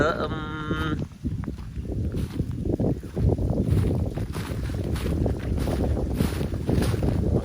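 Steady wind gusts buffet the microphone outdoors at a small hut in a garden, a continuous loud roar with rushing water-like noise throughout and a brief tonal sound at the start.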